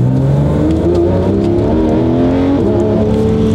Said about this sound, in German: Wir müssen jetzt ein bisschen driften, um ein bisschen Leben ins Auto zu holen.